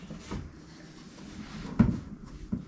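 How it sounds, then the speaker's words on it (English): A door is shut, giving a dull close thump followed by a lighter knock, with quiet room noise and no talk. "Don't shut the door on me!"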